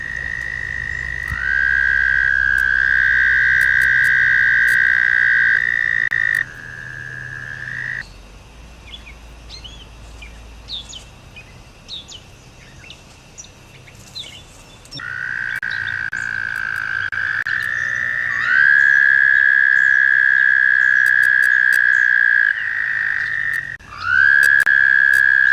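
A toad's long trilling call driven through its inflated vocal sac, loud and close, sustained in two extended bursts with a quieter gap between and faint background chirps.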